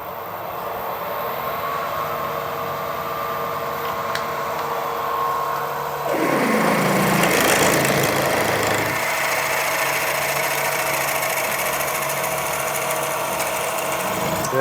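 A drill drives a 10mm bit into hard stainless steel lubricated with Anchorlube, a steady close motor whine that deepens into a grinding cut for a few seconds mid-clip, then settles back to an even hum.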